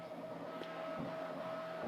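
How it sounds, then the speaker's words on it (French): A quiet 3D printer running steadily, a low, even mechanical hum with a faint tonal whine and a few soft clicks, close and constant throughout. "cette imprimante, elle est vraiment pas mal du tout, très silencieuse"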